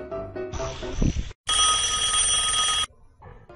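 A cartoon telephone rings loudly with a bright electronic bell tone, preceded by a short musical jingle and followed by a pause and low sounds.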